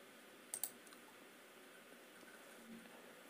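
Two quick mouse clicks land close together near the start, sharp and quiet against a faint steady background hum, as a computer mouse clicks a preview button on an online form.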